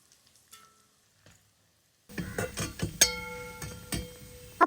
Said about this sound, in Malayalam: അപ്പോൾ നമ്മുടെ ചിക്കൻ ദേ നന്നായിട്ട് ഫ്രൈ ആക്കി ഇട്ടിട്ടുണ്ട്